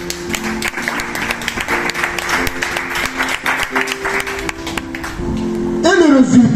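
Congregation in a church clapping and cheering together, a dense, steady wash of applause under a sustained background tone, swelling louder toward the end.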